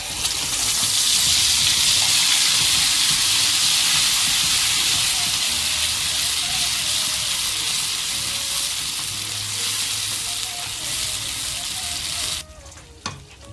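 Spices frying in hot oil in a pan for an Afghani malai egg tikka gravy, a loud, steady sizzle that hisses continuously and fades slightly toward the end, when it abruptly drops away.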